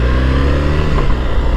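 A Triumph Bonneville T100 motorcycle with its stock exhaust idles and revs close by, giving a steady low engine drone with a slight rise and dip in pitch and no voices.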